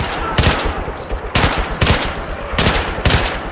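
Bursts of automatic gunfire in the Battlefield 3 co-op campaign, several loud sustained volleys separated by brief pauses, rattling fast and close with no voices.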